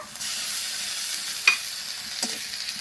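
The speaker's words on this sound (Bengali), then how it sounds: "রসুনটাও হালকা করে কিন্তু ভেজে নেব" Garlic paste fries in a pan after sliced onions for a pabda fish curry. A steady soft sizzle runs throughout, with a couple of sharp stirring scrapes.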